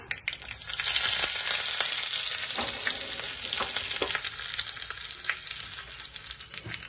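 Curry leaves and chillies tempering in hot oil for coconut chutney, a loud, dense, close crackle and sizzle with sharp spitting pops throughout and no talk.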